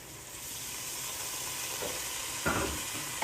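Boiled lentils stirred together with fried eggplant and carrot in a hot pan, a steady frying sizzle with soft scraping stir strokes, one louder scrape partway through, no voices.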